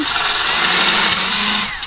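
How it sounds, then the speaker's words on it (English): A power drill boring a hole through house siding along a drawn line, a loud close steady whine lasting under two seconds before cutting off abruptly. "And then I just drill holes all the way across."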